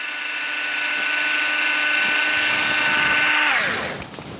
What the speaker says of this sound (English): I'll go ahead and go upside down with my drill.